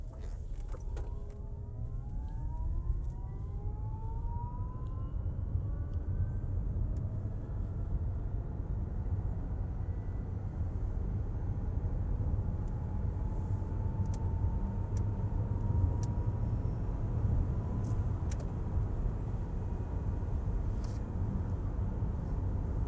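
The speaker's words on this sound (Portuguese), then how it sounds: "vamos fazer uma aceleração para ver o ruído e aceleração desse carro" A SERES 3 electric SUV accelerates with a faint, rising whine over a steady low road rumble, with no engine roar, sustained throughout.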